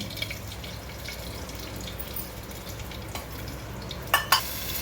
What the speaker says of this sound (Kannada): ನನ್ನ ಹಸಿ ಮೆಣಸಿನ್ಕಾಯಿ ಫ್ರೈ ಆದ ತಕ್ಷಣವೇ ಒಣಮೆಣ್ಸಿನ್ಕಾಯಿ ಹಾಕ್ಕೊಂಡು ಬಿಡಬೇಕು